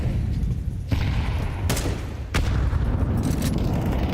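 HE grenade explosions during a professional Counter-Strike match: a few sharp, loud blasts at uneven intervals, with heavy booming over a constant rumbling crowd-like background.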